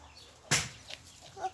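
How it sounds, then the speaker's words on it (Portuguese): Chickens on a farmyard visit, a sudden loud burst of wing flapping followed by softer clucks and rustling nearby, with no talk. "Aí, ó, as galinhas"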